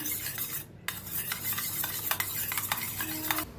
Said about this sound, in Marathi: पहिलं काय करूया अंड्याला चांगलं मिक्स करूया आपण